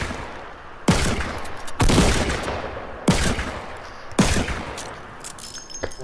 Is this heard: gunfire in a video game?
yes